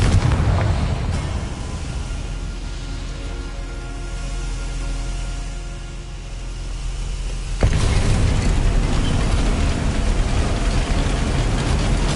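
A Confringo blasting curse in Hogwarts Legacy, a loud rumbling explosion roar that fades into a low sustained hum before a sudden burst of dense crackling blast noise.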